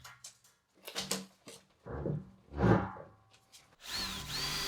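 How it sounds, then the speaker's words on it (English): An impact gun drives lag bolts up from below into a heavy steel workbench base in a workshop, giving several short bursts of rattling, hammering whir with brief pauses between them, fairly close and with no talk. "poke some lag bolts in from below. Got tired of the ratchet and decided to use the impact gun"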